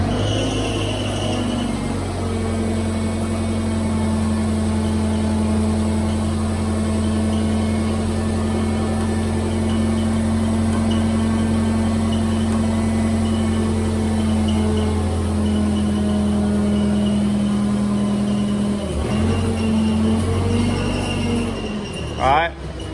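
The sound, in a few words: mud truck engine revving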